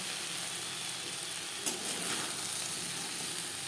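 Eggplant slices frying in hot oil in a pan on a gas stove, a steady dense sizzle with a brief clatter of stirring partway through, close and continuous with no voices.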